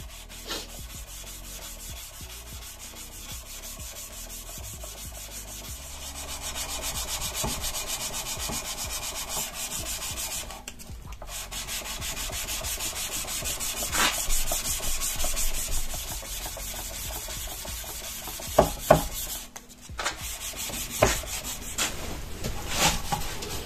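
Brass or aluminium being hand-polished with a little lubricant, a steady close rubbing and scrubbing with rhythmic strokes and a few sharper scrapes and knocks toward the end, no voices.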